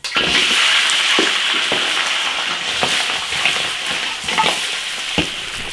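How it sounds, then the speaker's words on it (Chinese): Braised lamb trotters pan-fry in oil in an iron wok, a loud, continuous hiss and sizzle with a few sharp pops and scrapes as they are moved, no voices. "把羊脚煎一下。"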